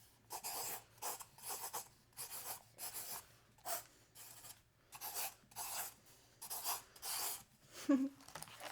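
A pen writing on paper in a composition book or spiral notebook, heard as close, soft scratchy strokes in short repeated bursts with brief pauses between, fairly quiet and alone.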